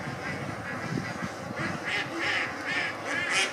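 Ducks quack repeatedly beside a river paddy where they are fed, their calls rising in bursts over a steady outdoor background, moderately near and with no talk over them.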